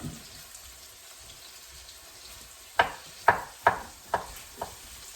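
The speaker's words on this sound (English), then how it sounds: "Braden, would you stir that for me, please? Make sure that that is cooking evenly." Apples, vegetables and meat frying in a pan for breakfast hash give a low steady sizzle, then five sharp scraping stirs land near the end, about half a second apart, with no voices.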